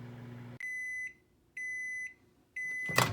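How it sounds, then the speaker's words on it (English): Microwave oven heating soft fishing-lure plastic: a hum stops, then three steady electronic beeps of about half a second each, evenly spaced, with a door click or clatter at the end. "put it on into the microwave"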